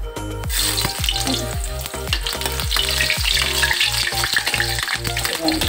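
Ginger dropped into hot cooking oil for squid adobo fries with a loud, close crackling sizzle, broken by a regular series of sharp spatula knocks and scrapes against the pan.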